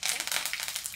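Curry leaves, cumin and mustard seeds hit hot oil for a dry capsicum stir-fry, giving a brief burst of bright crackling sizzle with irregular popping spatters, fairly close and steady throughout.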